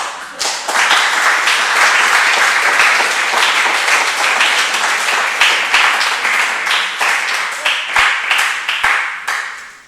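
An audience claps for Chiara at a talk, a dense, steady wash of applause lasting nearly ten seconds, with a few sharper individual claps standing out as it thins toward the end.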